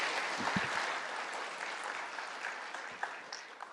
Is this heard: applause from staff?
yes